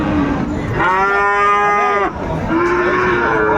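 A bull at a cattle sale in Chattogram, Bangladesh, lets out two long, loud moos close by, the first rising and drawn out, the second following after a brief pause.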